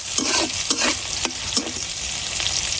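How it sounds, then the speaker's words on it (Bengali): Onions hit hot oil left from frying katla fish, hissing in a steady sizzle broken by several sharp scraping stirs of a spatula in the pan. "এখন এই মাছ ভাজার তেলের মধ্যে দিয়ে দিতেছি পেঁয়াজ"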